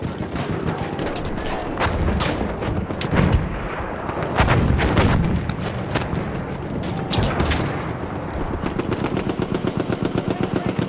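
Battlefield 1 machine gun fire on the Suez conquest map, continuous rapid bursts with heavy booms and explosions mixed in, ending in a steady rhythmic stream of shots, loud and close.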